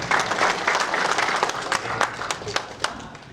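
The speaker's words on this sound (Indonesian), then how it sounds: "Oke, kita kasih aplaus." An audience claps together for a presenter at a formal gathering, a dense wash of applause that thins toward the end into a few scattered claps.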